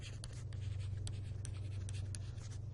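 A pen scratching across paper while roughly sketching a graph, a quiet run of light strokes and taps over a steady low hum, with no talk.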